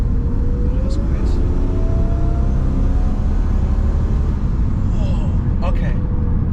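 A BIGEV electric car under hard acceleration fills the cabin with a constant loud road and drivetrain rumble, a faint whine rising through it and brief higher squeaks near the end, with muffled voices in the background.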